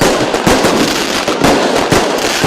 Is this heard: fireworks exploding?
yes